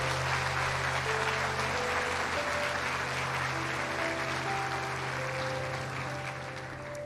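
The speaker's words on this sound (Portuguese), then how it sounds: "Dê uma salva de palmas a Ele." A church congregation gives a round of applause during a sermon, with steady clapping held for several seconds under sustained organ or keyboard tones.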